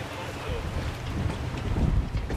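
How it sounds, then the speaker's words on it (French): A yacht casts off and leaves a Marseille-area port in a strong crosswind, with steady wind buffeting and rumbling water and hull noise close to the microphone. "Finalement, le yacht largue les amarres."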